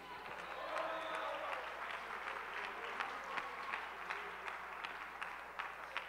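A church congregation applauds during a service, with fairly faint, continuous clapping from many hands lasting the whole stretch.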